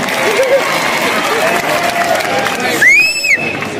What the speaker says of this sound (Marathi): इथं जे काही बाउन्सर आले त्यांच्यासाठी एकदा जोरदार टाळ्या हो द्या